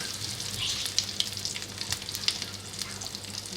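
Cumin, mustard seeds, whole red chillies and curry leaves frying in a small amount of oil for a baghaar, a bright continuous sizzle with scattered crackles and pops, close and moderately loud, without speech.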